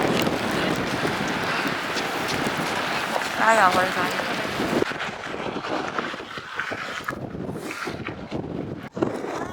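Strong Icelandic wind near Gullfoss waterfall buffets the microphone in a loud, gusty roar that slackens and surges, with a voice calling out briefly under the blasts.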